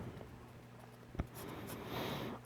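Pen scratching on paper during a V-belt drive design lesson, close and quiet, with soft continuous strokes and a couple of sharp taps, no speech.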